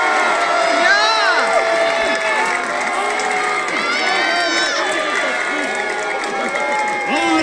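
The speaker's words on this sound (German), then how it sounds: "Das sind viele Buhrufe!" A large crowd at a gladiator show boos and shouts, a dense, loud wash of many voices with rising and falling jeers and whoops that keeps going without a break.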